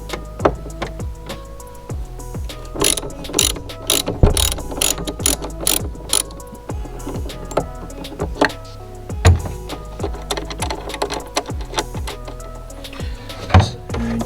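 Ratchet wrench with a 10mm socket loosening the battery terminal nut on a BMW F-series car with an N55 engine, giving rapid, loud pawl clicks in repeated bursts of strokes, close up, with no talk.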